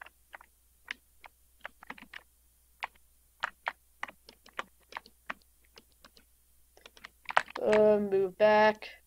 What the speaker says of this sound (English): I'm sorry if you hear the keyboard clicking in the background.